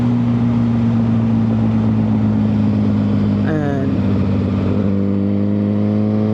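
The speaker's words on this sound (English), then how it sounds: "I'm now hearing when the bike starts to choke out. That means I'm losing the friction zone." A Suzuki GSX-R1000R motorcycle engine runs steadily at low revs, then stumbles and its pitch sags midway as it starts to choke out near a stall, loud and close.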